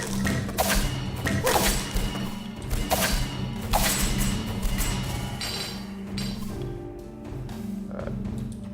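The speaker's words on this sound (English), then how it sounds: "Don't shoot me, turrets." Turrets fire in the video game Mana Spark, a run of sharp, punchy thuds spaced about a second apart over a busy, steady game soundtrack.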